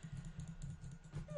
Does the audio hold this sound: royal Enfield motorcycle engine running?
no